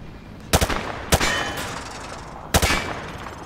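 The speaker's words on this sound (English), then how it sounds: "He sprayed bullets all over the damn place." A rifle fired from the hip in Call of Duty: Modern Warfare 2 gives sharp, loud bursts of two or three quick shots with metallic ringing tails, spaced apart over quiet background.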